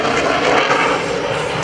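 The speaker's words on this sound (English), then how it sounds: "Today, you're going to see this airplane go from 110 miles an hour to 700." F/A-18C Hornet jet from Naval Air Station Oceana roaring overhead during an air show demonstration in Hampton Roads, a loud continuous broadband engine roar that stays strong for the whole moment.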